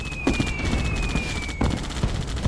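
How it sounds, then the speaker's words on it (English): A unit firing a salvo in Red Alert 2: Yuri's Revenge, several quick cannon-like shots in two clusters, moderately loud against a constant battle hum and a high whining tone. "Firing salvo."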